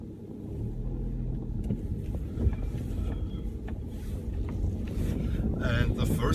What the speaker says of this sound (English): very tricky traffic situation here.